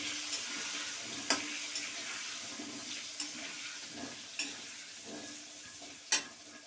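Potatoes with turmeric frying in hot oil in a pan: a soft continuous sizzle punctuated by sharp spatula scrapes and clicks every second or so as they are stirred.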